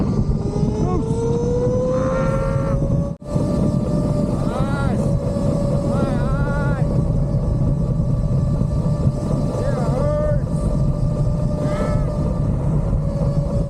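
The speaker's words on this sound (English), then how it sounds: "It's a 60-second boost where you are getting full power to that motor." A 2024 RFN Ares RC vehicle runs its motor at full boost during a range test, producing a loud, sustained electric whine with wavering pitch and a brief dropout near the start.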